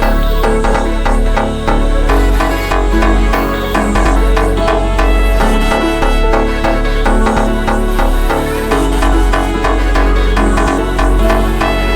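A dense ambient beat plays loud and continuous, layering a melodic synth line, deep bass and vocal samples over a steady drum rhythm that pulses evenly throughout.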